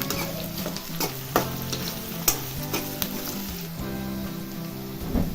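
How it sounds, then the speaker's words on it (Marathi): Chopped onion with a bay leaf sizzles steadily in a hot pan for a veg biryani, with scraping stirs and small clinks of a spoon against the pan, close and alone without talk. "आता कांदा टाकलेला आहे. हा चांगला गोल्डन होईपर्यंत भाजून घ्यायचा आहे कांदा."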